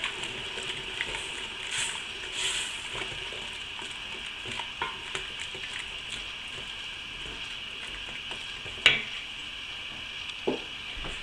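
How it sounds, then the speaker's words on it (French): A spoon stirs and scrapes the bottom of a saucepan amid a faint sizzle while braising beef, with one sharper clink near the end. "je tourne et je décolle au fond de ma casserole les sucres"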